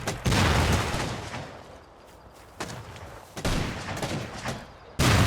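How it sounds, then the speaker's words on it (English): Heavy rocket fire and gunfire in a battle boom and roll in loud, dense bursts, rising and falling with brief lulls between barrages. "The rocket fire has been consistently going on now for around half an hour."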